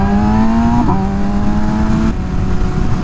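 An MV Agusta Rush naked motorcycle engine hums loud and steady while riding, its pitch dipping briefly as the revs shift, over constant close wind rush.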